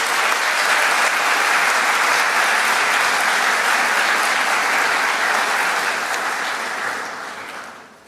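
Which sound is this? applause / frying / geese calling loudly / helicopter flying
applause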